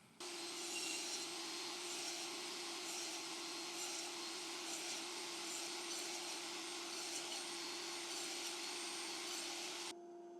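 A table saw cuts through wood for a half lap joint, its motor holding a steady, fairly quiet whine with a grainy cutting rasp for about ten seconds before it drops away.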